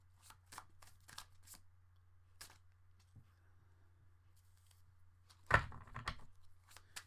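Tarot cards are shuffled close by in short, crisp riffling bursts, several quick flicks followed by a louder, longer riffle near the end, over a low steady hum.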